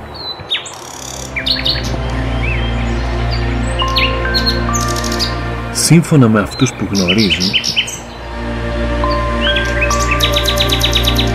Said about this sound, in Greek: το αηδόνι είναι ένα από τα μελωδικότερα πτηνά